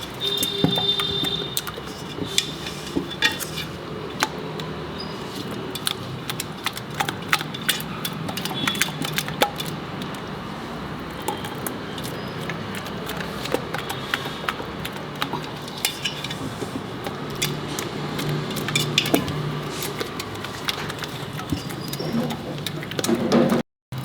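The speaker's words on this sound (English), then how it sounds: "It's better you mix with the hand so that you can feel." Sannas batter is mixed by hand in a bowl in a home kitchen, a continuous wet squelching and slapping with small clicks, close and steady for the whole stretch without speech.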